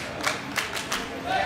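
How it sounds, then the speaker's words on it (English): Esports crowd at a Counter-Strike-style grand final cheers and claps in short bursts, a few sharp clap-like swells rising over a steady background murmur, moderately loud but distant. "The crowd getting hyped."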